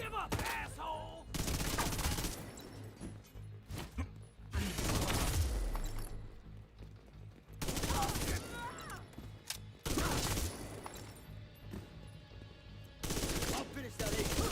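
Sustained bursts of automatic gunfire from a shooter video game, loud and dense, arriving in repeated volleys of a second or two separated by short lulls.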